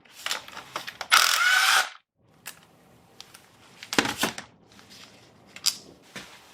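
Ratchet removing the wire harness bolt on top of a 1999 Acura RL engine, heard as short rattling clicks. A louder burst of ratcheting comes early on, then scattered quieter clicks and handling noises follow, with no talking.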